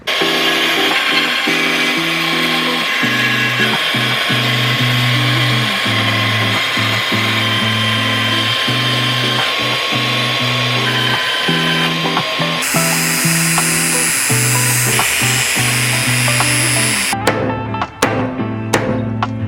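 A power tool cuts a metal bracket during alternator-conversion fabrication on a 1968 Volvo, giving a loud, continuous whine whose pitch shifts as the cut progresses, then ending in a scatter of sharp clicks and clatter.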